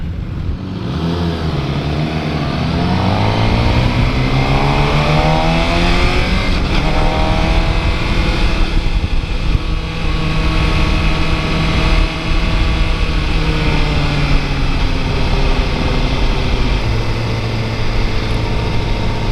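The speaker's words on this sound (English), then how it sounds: "engine does feel a little rough, lower in RPMs, like below 4" A 2015 Suzuki GSX-R 600 sport motorcycle engine roars steadily while riding, slightly rough at low RPM, its pitch rising and falling as the rider shifts through gears, loud and close with constant wind rush.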